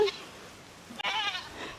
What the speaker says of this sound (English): Hey, goat. Come on, goat.